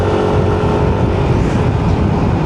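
A Yamaha NMAX motor scooter with thick, wide tires rides along a curvy road, its engine droning loud and steady with rushing wind noise throughout.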